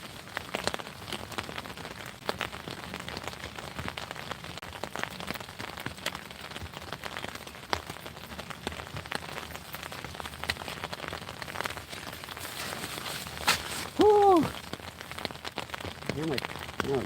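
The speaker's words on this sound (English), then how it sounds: "It's pouring out here." Heavy rain pours steadily onto a river and its surroundings outdoors, a dense continuous hiss of drops with brief faint voices near the end.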